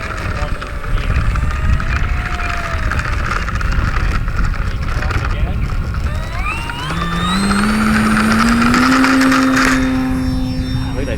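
Electric motor of an E-flite Cherokee 1.3m RC airplane running at full power, a steady whine that climbs in pitch partway through, heard outdoors with wind noise and some talk.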